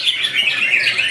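A green leafbird (cucak ijo) sings in a songbird contest's challenge class, pouring out a continuous, loud, high-pitched warble of rapid chirps and trills, close and alone.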